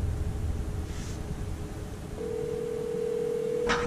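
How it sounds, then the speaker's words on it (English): A phone call from a Toyota Tundra dials out, with a steady ringback tone starting midway over low road noise, close and clear, followed by a brief electronic chirp. "Okay, we're calling Krista."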